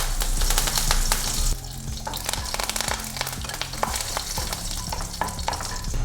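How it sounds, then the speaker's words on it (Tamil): Mustard seeds crackle and pop sharply in hot oil, a dense continuous spluttering with irregular loud pops, close and without talk. "கடுகு பொரியுது"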